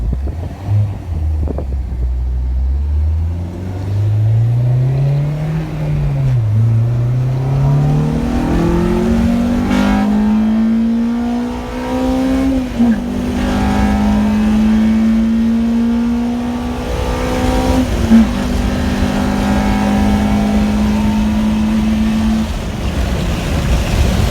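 An Acura Integra with a K20 engine swap pulls hard in a quick acceleration run, the engine note climbing steadily through the revs with brief dips at shifts, loud and close throughout.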